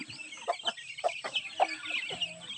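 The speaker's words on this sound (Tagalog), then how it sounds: "tatlong piraso lang po itong manok natin" Three chickens clucking close by in a busy stream of short, choppy calls, the birds overlapping, steady and moderately loud.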